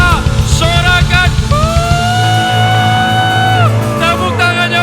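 Church congregation at a Christmas celebration shouting and cheering hallelujah together, a loud sustained massed chant with rising and falling voices and a low rumble of crowd noise underneath.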